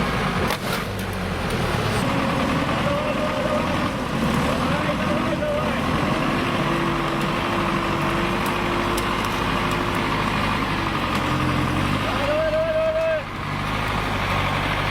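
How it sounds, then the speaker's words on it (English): A heavy machine pulling tree stumps, its engine droning in a continuous loud rumble with occasional tonal whines and shifts in load, and voices can be heard in the background. "Is that the original gasoline engine, or has it been swapped for a powerful diesel one?"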